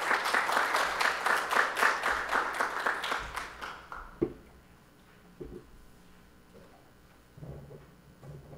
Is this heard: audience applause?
yes